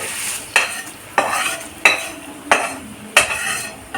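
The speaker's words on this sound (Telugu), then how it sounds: "ఇప్పుడు ఇదిగో ఈ పోపు ఇదిగో ఇలా వేసుకోవాలి" A spoon scrapes and stirs tempering into tamarind rice (pulihora) in a pan in regular strokes, about six scrapes over a soft sizzle, close by.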